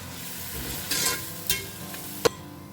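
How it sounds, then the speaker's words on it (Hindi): Finely chopped onion sautéing in melted butter for pav bhaji, a steady soft sizzle with a few sharp scraping stir strokes of a spoon against the pan, close and alone. "अब प्याज को ना 1 से 2 मिनट के लिए ना अच्छे से भून लेते हैं।"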